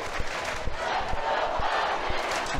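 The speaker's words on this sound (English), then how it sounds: "And the Huskies getting a nice cheer." Fans at an ice hockey game cheer for the Huskies in a broad, roaring crowd wash, loud and sustained, with some scattered thumps under it.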